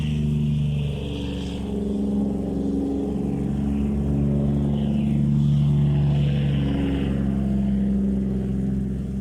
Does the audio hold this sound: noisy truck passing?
yes